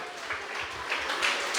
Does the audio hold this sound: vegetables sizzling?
no